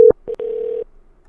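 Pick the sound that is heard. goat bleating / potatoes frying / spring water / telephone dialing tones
telephone dialing tones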